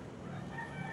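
A rooster crows in a short burst, its strained call carrying over a dense background of ambient noise.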